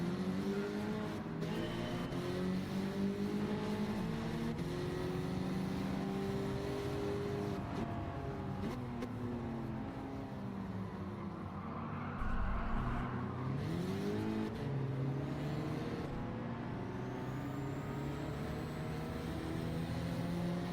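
Car engine in Gran Turismo 7 held at high revs, rising and falling through gear changes with the pitch repeatedly climbing under acceleration, loud and continuous throughout with a brief low thump midway.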